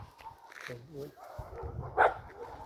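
A dog barks and whimpers in short bursts nearby, mixed with a person talking over it.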